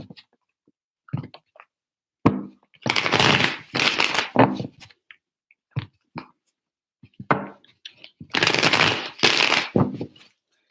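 Tarot cards are shuffled in three distinct bursts, crisp riffling flutters with short taps and handling clicks between them, close and fairly loud in a quiet room.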